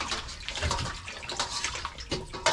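Running water splashes steadily over food being rinsed for fried chicken, a close, continuous broadband spray with small uneven surges and no talking.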